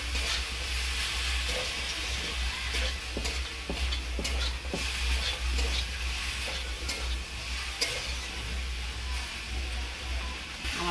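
Spinach, raw green banana and potato being stirred in a frying pan, a steady close sizzle and hiss with repeated soft scraping strokes of the spoon throughout, no talking.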